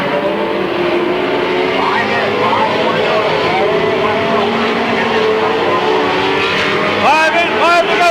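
Race cars at Midvale Speedway roar past on the oval in a 1995 race, engines droning loudly throughout with a few sharp passing whines near the end, while an announcer talks over them.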